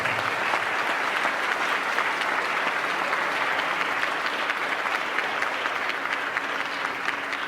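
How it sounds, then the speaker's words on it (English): Sustained applause from a seminar audience, steady and dense from start to finish with no voices standing out. "Give him a round of applause to share the story."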